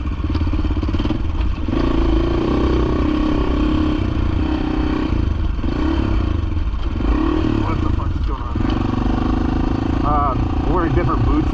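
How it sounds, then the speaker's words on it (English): A motorcycle engine drones loudly and continuously while braking off-road over rocks, with clattering knocks and wind, under frequent talking. "I see that engine braking,"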